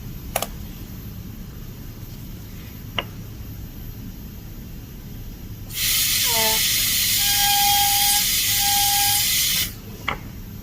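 An electronic dental handpiece drilling at increased RPM during a Class II amalgam cavity preparation, with a bright, steady high-pitched whine that runs for about four seconds between a few isolated clicks.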